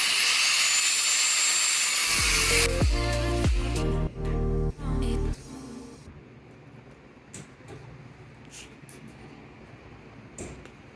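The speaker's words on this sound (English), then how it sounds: "This air grinder" An air grinder runs with a loud, hissing pneumatic rush. It then drops to a rougher, whining motor note with a few abrupt cuts and bursts before settling into quieter intermittent clatter.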